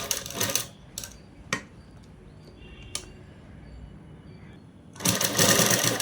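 A sewing machine stitches a green leaf design onto a ready-made blouse in short clattering bursts, with sharp clicks between runs and a longer rattling burst at the end.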